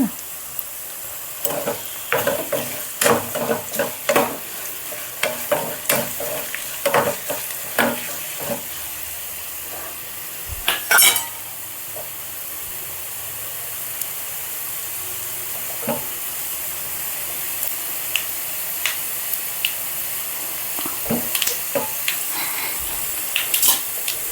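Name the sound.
tempering (talimpu) with asafoetida frying in a pan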